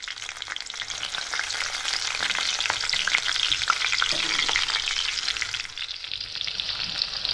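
Garlic and two chillies frying in a pan, a loud, dense, continuous crackling sizzle heard up close, steady throughout with no voices.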